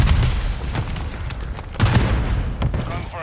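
A Semtex grenade blast in Call of Duty Modern Warfare 3 multiplayer, a heavy boom amid ongoing gunfire and battle noise, loud and close, with further thuds following.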